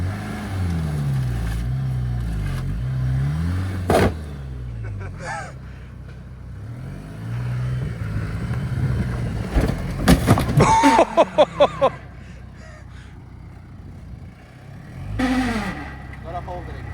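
An engine held in gear during a poacher block durability test revs and strains in uneven surges with several sharp knocks. People talk throughout.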